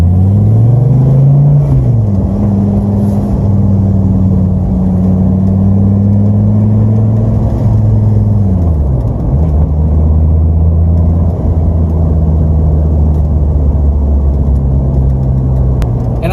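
A Dodge Viper GTS V10 sports car engine rumbles loud and close, its deep note shifting pitch up and down through gear changes before settling into a steady drone.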